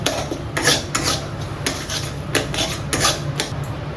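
Melting sugar for pera is stirred in a pan, and a metal spoon scrapes and clinks against it in quick, uneven strokes over a low background hum.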